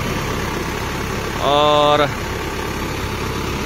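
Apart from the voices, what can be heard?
Case 175 horsepower 4x4 tractor engine idling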